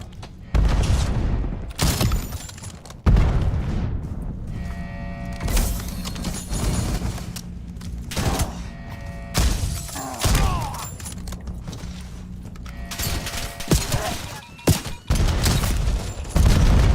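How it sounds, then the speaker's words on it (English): Repeated booming blasts from cluster grenades in a looter-shooter video game, several heavy thuds and bursts scattered over a busy mix of game effects and music, with louder clustered impacts near the start and middle. "cluster grenade."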